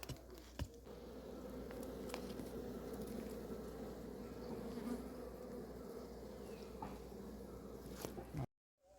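A swarm of karinjodiyan honeybees, being caught from a snake's burrow, buzzes loudly and continuously up close, with a few faint knocks and rustles, until the sound cuts off abruptly near the end.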